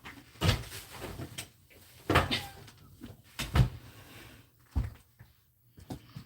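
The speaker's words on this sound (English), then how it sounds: "Let me just open this door." An indoor door is opened, giving a few separate knocks and clunks spaced a second or more apart against a quiet room, with no voices during it.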